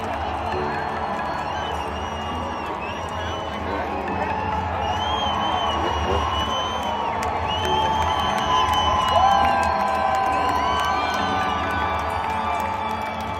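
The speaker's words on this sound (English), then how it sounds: "the huge crowd cheered his every move" A huge stadium crowd at a Salt Lake Supercross race cheers steadily for a returning rider, a dense continuous roar with whoops and shouts swelling slightly near the end.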